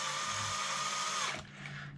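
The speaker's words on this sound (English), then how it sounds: "see what I'm doing here with my drill?" A cordless power drill whirs steadily at high speed while working on a radio-controlled car, then spins down abruptly and restarts more softly, with no talking over it.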